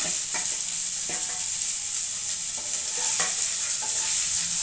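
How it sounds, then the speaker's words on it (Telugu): Boiled cluster bean pieces frying in a pan with little oil, a steady close sizzle throughout, broken by several scraping stirs of a spatula. "ఈ గోరుచిక్కుడుకాయల ముక్కలు 2 మినిట్స్ ఫ్రై చేసుకుని ఈ కొబ్బరి కారం వేసుకోవాలండి."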